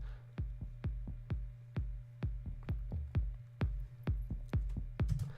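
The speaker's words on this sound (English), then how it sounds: "I've got this little drum loop that I found" A looped drum pattern for a soundtrack, with deep punchy kick-like hits in a steady, evenly spaced rhythm over a low sustained hum, clean and close with no talk.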